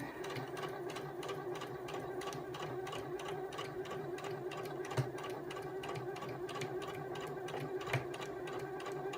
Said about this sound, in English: You lift your foot, turn the fabric 90 degrees and put the foot down again. and then you can keep sewing.